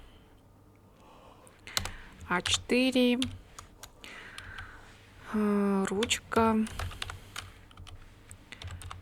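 Keys clatter on a computer keyboard as data goes into a Google Sheets table, short bursts of typing mixed with clicks while a person speaks between them.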